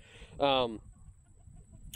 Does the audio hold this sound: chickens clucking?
yes